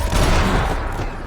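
Max Payne 3 video game gunfire: a dense, loud burst of rapid shots fills a short moment in a nightclub restaurant kitchen.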